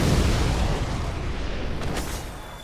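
A fireball spell bursts in Dark Souls, a broad roaring rumble that fades slowly over a few seconds, loud and close, with no voices.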